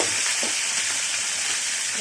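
A spoonful of ginger garlic paste fries in a pan, giving a constant bright hiss of sizzling oil, close and even, with faint stirring scrapes beneath.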